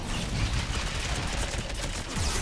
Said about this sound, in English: so right now, those Ravengers start shooting at me